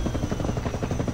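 Havoc attack helicopter in a video game, a close, loud rotor drone with rapid rhythmic blade thumps throughout the short moment, no voices.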